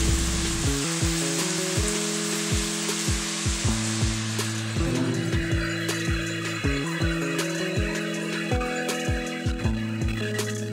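Cauliflower with turmeric and salt sizzles in a pan while a utensil stirs it, with a steady frying hiss and repeated sharp scrapes and knocks against the pan in an uneven rhythm, close by and with no talking.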